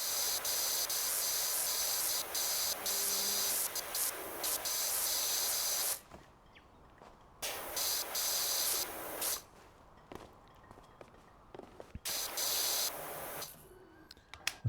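Water sprayed from a pressure-washer cleaning nozzle, a loud hissing blast in several long bursts separated by brief quiet gaps, close and harsh with no talking.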